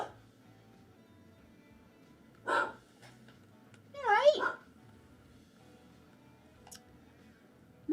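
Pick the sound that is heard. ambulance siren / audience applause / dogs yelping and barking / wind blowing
dogs yelping and barking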